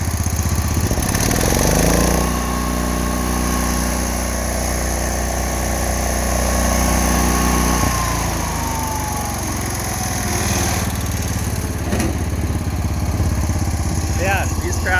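Allis Chalmers garden tractor with a 12 hp Kohler engine running loud and close, a steady throbbing engine drone throughout with a brief change in pitch partway, while a person talks over it.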